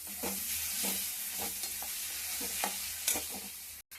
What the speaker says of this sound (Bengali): এবারে পোস্তটা মিক্স করে দেবো